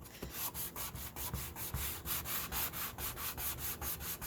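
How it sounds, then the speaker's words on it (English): The edge of an electric sander scuffs painted wood for a distressed finish, making a close, rough rasping with a quick, pulsing rhythm of repeated strokes and no talking. "I'm just using the edge of my sander because I want like a really rough scuff here"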